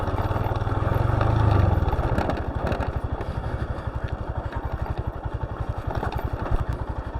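A dirt bike on a rough dirt track in the Flinders Ranges, its engine revving and then settling into a loud, steady throb close to the mic, with clatter and rumble from the uneven ground.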